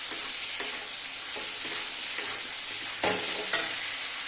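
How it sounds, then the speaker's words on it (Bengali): Spice paste with papaya and potato sautéing in a pan: a steady close sizzle runs throughout, with regular light scrapes of a spoon and one longer stir near the end. "এবার আমি কষিয়ে নেব ভালো করে।"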